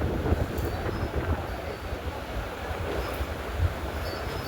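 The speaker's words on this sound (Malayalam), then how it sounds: "ഇതിപ്പോൾ 2ാം നമ്പർ പ്ലാറ്റ്ഫോമിലാണ് ഗുരുവായൂരിൽ നിന്ന് മധുരയിലേക്ക് പോകുന്ന ട്രെയിൻ വരുന്നത്" Guruvayur–Madurai passenger train pulling in at platform 2 of a station in the Kollam–Tenkasi line, a steady low rumble of wheels and carriages with wind noise, continuous and fairly close throughout.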